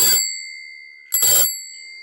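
A bright bell dings twice, loud and close, each strike leaving a long, clear ringing tail that fades slowly during a mimic-sound game.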